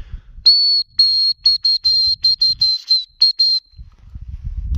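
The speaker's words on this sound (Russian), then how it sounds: "Малюсенький свисточек такой." A tiny, slightly dented children's metal toy whistle blown in a series of shrill, high toots: one long blast, then several short rapid bursts and a final longer one, close and loud, with faint rustling around it.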